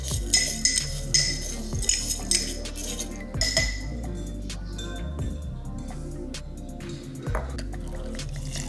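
Vodka poured into a glass jar packed with cold-and-flu remedy ingredients such as lemon, ginger and garlic, heard as a steady trickle with drips and faint glassy clinks throughout, close and moderately loud.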